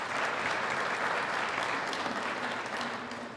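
Audience applause at a community awards evening, dense steady clapping from a full room that stays loud and even, easing slightly toward the end, with no voices over it.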